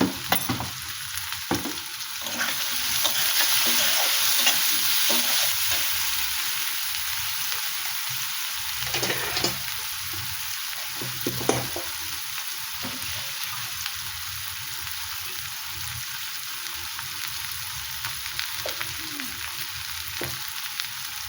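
Ginger frying in a pan with chilli for potol chingri, a long steady sizzle with repeated spatula stirs and scrapes close by, no talking.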